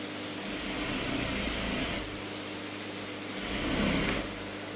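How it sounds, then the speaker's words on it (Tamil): An electric sewing machine runs a folded hem on a gown, producing a continuous close whirring hum that swells slightly twice as the stitching speeds up, with no talking. "அதாவது கீழே ரகத்துக்கு அப்படியே மடித்து தையல் போட போகிறேன்."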